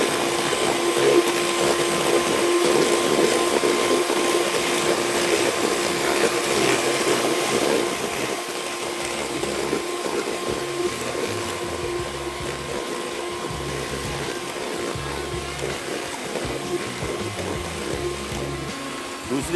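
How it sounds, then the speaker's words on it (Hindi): Electric hand mixer beating butter for a chocolate cake batter, a steady loud motor whir running continuously with a slight drop in intensity partway through. "अदरवाइज़ तो मैं कम से कम इसको 7-8 मिनट तक फेंटूँ"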